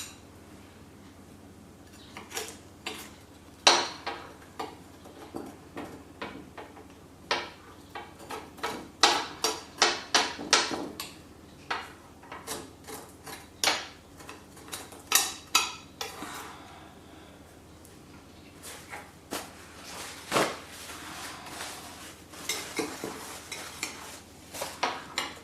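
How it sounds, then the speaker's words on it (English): Excess pastry is scraped off a dish, producing a series of close, irregular clinks and scrapes of a utensil against the dish, some louder than others, spread across the whole stretch without talk. "Let's just scrape off the excess pastry here."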